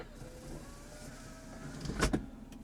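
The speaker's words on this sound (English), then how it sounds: "With this button, you can raise or lower the rear sunshade." Electric rear sunshade on a 2011 BMW 328i sedan moving inside the quiet cabin, a faint, steady motor whine running under low interior hum and ending in a brief soft clunk near the end.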